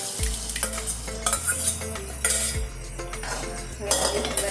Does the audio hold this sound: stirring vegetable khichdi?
yes